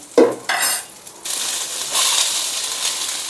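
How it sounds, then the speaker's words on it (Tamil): Onions and dried red chillies sautéing in hot oil for a coriander seed chutney: a couple of close clattering stirs in the pan open it, then a steady, bright sizzle carries on alone. "வெங்காயத்தையும் சேர்த்து நல்லா வதக்கி விட்டுக்கலாம்"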